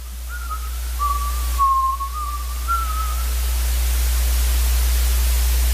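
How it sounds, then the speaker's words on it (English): A faint whistled tune drifts in from outside in a video game, a thin wavering line held for a few seconds over a loud, steady static hiss. "Timothy heard a familiar whistling coming from outside."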